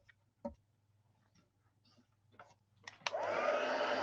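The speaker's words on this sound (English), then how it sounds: "we're going to go ahead and hit both of these pieces of cardstock with our heat tool." Scattered small clicks and handling noises lead into a heat tool switching on and blowing a loud, steady rushing hiss as it heats embossing powder on cardstock for a faux metal card.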